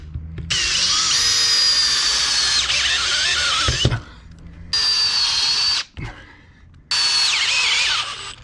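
A power drill drives fasteners into the existing frames of a wooden boat during a haulout restoration. It comes in three loud, whining bursts, each several seconds long, with brief pauses between them.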